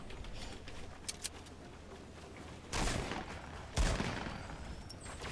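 Gunfire in the battle royale game Fortnite: two sharp distant shots early, then two louder bursts of shooting later over steady game ambience.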